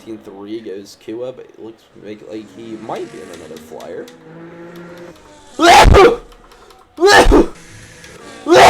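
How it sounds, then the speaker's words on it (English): Three sharp, loud sneezes in quick succession from a commentator during a live Monaco Grand Prix sim-racing league broadcast, bursting in after a stretch of ordinary commentary talk. "I'm a 3 sneeze guy."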